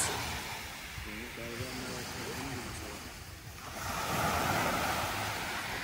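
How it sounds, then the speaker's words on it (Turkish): Small sea waves wash onto a beach in Belek, a steady surf that swells louder near the end, with wind buffeting the microphone and a person speaking over it. "İkiye kadar en fazla dalgası bu kadar."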